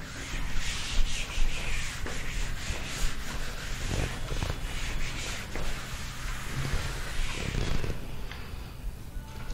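An eraser is rubbed across a classroom board to wipe it clean, making steady scrubbing and swishing strokes in repeated bursts, close and fairly loud, with no talk.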